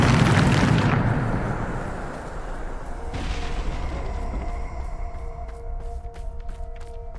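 A Bombarda spell explosion from the video game Hogwarts Legacy: a loud, broad blast bursts in at the start and decays over about a second. A second, softer impact follows near three seconds, then a lingering rumble with tonal ringing and scattered clicks, with no talk.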